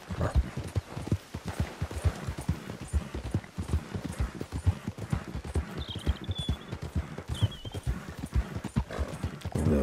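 Horse hooves clip-clop steadily at a walking pace while riding in Red Dead Redemption 2, a continuous close rhythm with brief whinny-like tones in the background and no talk over it.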